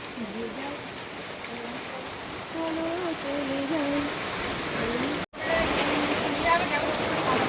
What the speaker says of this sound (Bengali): বৃষ্টি নেমে গেছে একটা টিনের চালের তলায় দাঁড়িয়ে আছে এখন